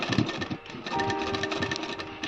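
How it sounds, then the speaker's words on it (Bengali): A sewing machine stitches a fabric frock belt in short, rapid mechanical bursts, running steadily at close range with a faint hum and a few brief pauses. "এই যে আমি সেলাই দিচ্ছি"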